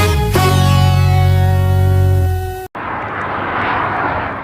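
Russian military aircraft flying off Alaska during a US interception: a loud, steady engine drone with strong tonal harmonics, then an abrupt cut to a broad roaring rush, with no voices.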